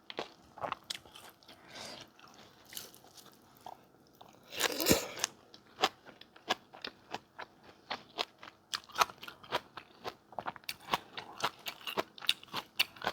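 A home-style rice meal with pork neck curry and cha-om soup is eaten close to the microphone, with steady crunchy bites and chewing and one louder rustling burst partway through.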